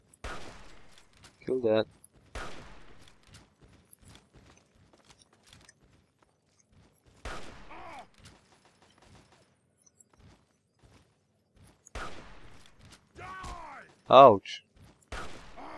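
Sparse bursts of turret gunfire from the game Fallout 3 crack out at intervals amid quiet stretches, with brief voice lines from game characters mixed in.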